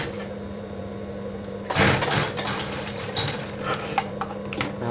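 A sewing machine stitches a baby blanket, starting suddenly partway through with a steady mechanical whir and clatter near the microphone, after a quieter hum.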